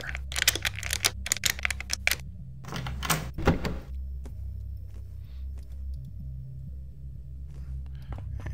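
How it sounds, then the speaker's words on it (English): Metallic clicks and scraping of a lockpick working a door lock in the stealth game The Dark Mod, a burst of close, rapid rattling taps at the start and another around the middle, then quiet room ambience with a low hum. "pull out your trusty lockpick, and pick this door here"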